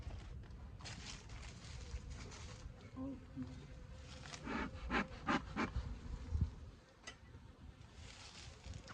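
Honey bees hum steadily around an open backyard hive at the year's first inspection, a dense drone with sharper buzzes as individual bees pass close, while someone talks over it.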